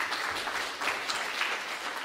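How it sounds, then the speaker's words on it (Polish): Audience applause fills a hall at a vocal festival concert in Wojkowice, a brief, even patter of clapping at moderate volume. "Wielkie brawa, proszę Państwa."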